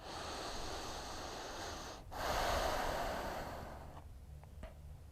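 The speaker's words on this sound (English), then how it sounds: "take a few deep, full breaths here." A long, deep breath during a relaxed yoga stretch, a broad airy inhale-exhale heard close and soft, swelling midway and tapering to quiet near the end.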